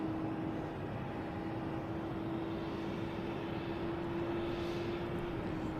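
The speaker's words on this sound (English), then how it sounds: "We have another, actually, British Airways coming in here." A British Airways Boeing 787-10 Dreamliner arriving from London at Logan at dusk gives a steady, distant engine drone with a low tonal hum, continuous and fairly faint.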